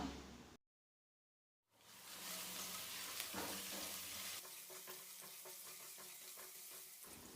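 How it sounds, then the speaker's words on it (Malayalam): Chopped garlic and ginger sautéing in a pan for egg stew: after a brief silent gap, a close, steady sizzle starts and continues with light stirring scrapes. "ഒരു 5-6 വെളുത്തുള്ളി ഇതുപോലെ ഒന്ന് അരിഞ്ഞെടുത്തതും ഒരു ചെറിയ കഷ്ണം ഇഞ്ചി അരിഞ്ഞതും കൂടി ചേർത്തിട്ട് ഒന്ന് വഴറ്റിയെടുക്കാം"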